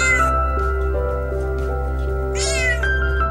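A domestic cat meowing loudly and close, two drawn-out wavering cries at the start and near the end, with music playing underneath.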